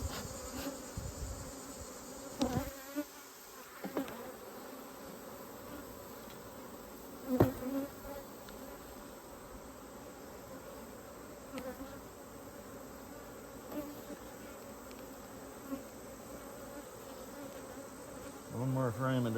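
Honeybees buzz continuously around an opened hive, a dense, agitated drone that holds steady throughout, with occasional knocks and brief sharper sounds from handling the frames.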